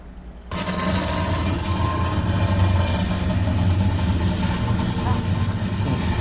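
A motorbike engine runs steadily and close throughout, a continuous mid-pitched drone that starts abruptly after a brief quiet moment, as a dog is dragged along behind it.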